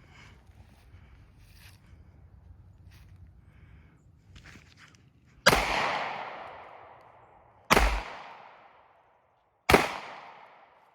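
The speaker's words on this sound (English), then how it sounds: "So the next gun we're going to be using is the Ruger ECS 9. We're going to see what that will do to a brick wall, Cinderblock wall." Three loud, sharp Ruger ECS 9 pistol shots fired at a cinderblock wall outdoors, spaced about two seconds apart, each with a ringing decay, after a stretch of quiet rustling and footsteps.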